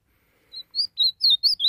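Azulão, the blue grosbeak songbird, sings a run of about six clear, high whistled notes in quick succession, close and fairly loud against a silent background.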